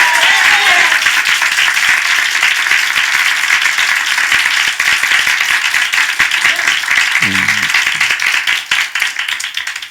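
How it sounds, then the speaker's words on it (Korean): A church congregation claps during a Sunday morning worship service, dense and loud sustained applause that thins out and fades near the end. "먼저 우리 하나님께 박수로 영광 돌리겠습니다"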